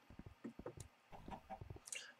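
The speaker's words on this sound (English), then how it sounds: "First things first, I need chickens." Several short chicken clucks from a pair of Minecraft chickens, brief and irregular bursts at moderate closeness with faint clicking between them.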